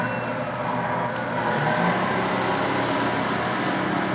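A Tamiya Knight Hauler RC truck's electric motor runs steadily in second gear, a continuous close whirring drone with no pauses.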